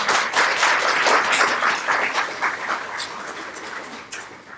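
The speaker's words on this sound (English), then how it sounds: "Today, round of applause." A round of applause from the audience at a 4-H Club youth speech contest in Flagler County, steady dense clapping that holds for several seconds and then gradually thins out and fades.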